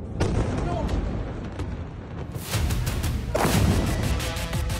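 Explosions from an Iranian missile attack on Haifa, Israel, sound as heavy booming blasts and crashing rumbles, with sharp, loud bursts breaking over a continuous roar.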